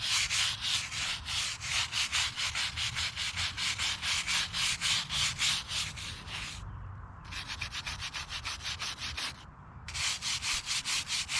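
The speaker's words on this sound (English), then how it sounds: "the longer you scrub on it, the cleaner it's going to come" A brush scrubs a headstone clean in fast, regular back-and-forth strokes, loud and close, with two brief pauses before the rasping rhythm resumes.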